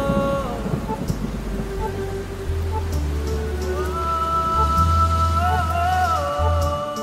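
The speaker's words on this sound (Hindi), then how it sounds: "रिमझिम बरसती ये बूंदे हमारे अरमानों को अपने साथ लाती हैं।" Steady rain falls throughout, a dense even hiss with no breaks, heard over music with sustained tones and a low droning bass line.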